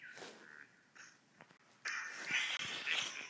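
Yellow birds in the Angry Birds video game give a few short, raspy cartoon squawks, quiet at first and then a louder, sustained screech near the end.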